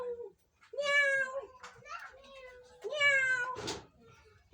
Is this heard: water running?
no